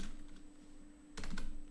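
A few quick keystrokes on a computer keyboard typing a disk command, a short cluster of close, crisp clicks after a quiet moment.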